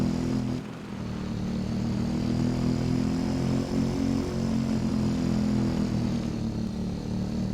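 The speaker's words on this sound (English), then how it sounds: "Ripping around on the dirt bike" A dirt bike rips along off-road trails in Farming Simulator 22, its engine a loud, steady droning hum that barely changes pitch, with a short dip early on.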